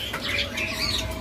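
A male spotted magpie robin at a bird-selling kiosk flutters its wings in a brief burst of soft flapping, with faint chirps mixed in, all over a low, steady background hum.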